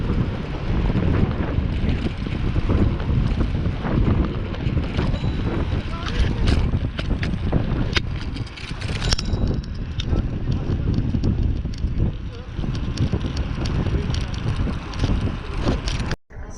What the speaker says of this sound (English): There was a lot of wind and breeze